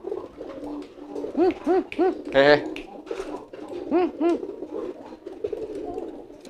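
Male racing pigeon coos close up in a series of rhythmic rolling calls with a brief fluttery burst midway, while someone speaks softly in the background.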